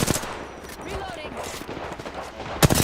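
Rapid gunfire from the battle-royale game Apex Legends crackles in dense bursts through most of the stretch, with a player talking over the shooting and a sharp louder burst near the end.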